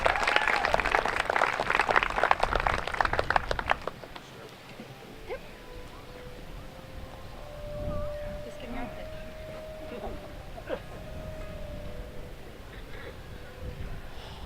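An audience at a Celtic festival opening ceremony applauds musicians with loud, dense clapping that cuts off after a few seconds, leaving quiet room noise with faint voices.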